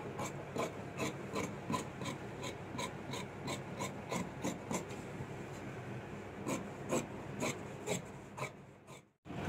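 Scissors cut pant fabric in small pieces, giving a steady series of faint, crisp snips at a regular rhythm up close in a quiet room.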